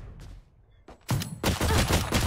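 Gunfire in the shooter game Valorant: a few isolated shots, then a dense burst of rapid automatic fire that runs loud and continuous to the end, with no talk over it.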